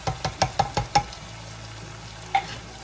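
A spoon knocks and scrapes around a simmering pot of tomato sauce, several quick rhythmic strokes followed by a soft bubbling lull and one last tap.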